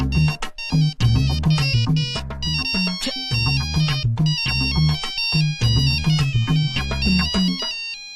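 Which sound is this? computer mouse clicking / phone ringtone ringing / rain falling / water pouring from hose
phone ringtone ringing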